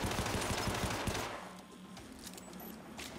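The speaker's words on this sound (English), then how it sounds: "Is this on like burst fire or something?" Rapid burst-fire gunfire in the PC shooter Syndicate, loud and dense for about a second and a half, then dropping away to quieter game ambience with a few scattered shots.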